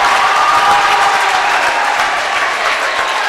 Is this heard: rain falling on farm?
no